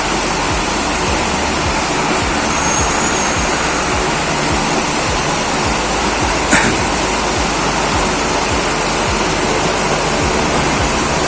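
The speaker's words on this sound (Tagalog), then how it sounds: "Ayan, nagsisimula na uling kumulo." Refilled water coming back to a boil in a pot fitted with a ring as a splash guard, a loud, steady rushing roar of bubbling that fills the whole stretch without speech.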